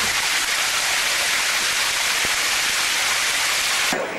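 Heavy rain pours down in France as a dense, loud, unbroken hiss, with a faint low knock midway, then it cuts off abruptly near the end.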